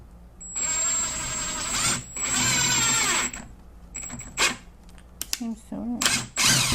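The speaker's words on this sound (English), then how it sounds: "put it into my impact driver and drive in a screw" Inexpensive impact driver driving a screw into wood, two sustained whirring, rattling bursts followed by short stuttering trigger pulls, close and loud with some talking between.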